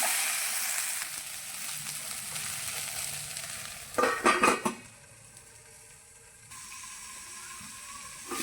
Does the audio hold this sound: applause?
no